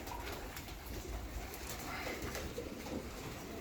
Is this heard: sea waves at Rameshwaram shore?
no